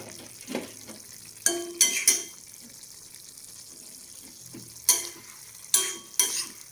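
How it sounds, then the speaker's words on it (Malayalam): Tomato pieces tossed into a hot pan of Kerala theeyal curry, bringing loud bursts of sizzling and stirring in a few separate clusters between quieter gaps, with no voices. "ഇതിലേക്ക് തക്കാളി ഇട്ട് കൊടുക്കാം."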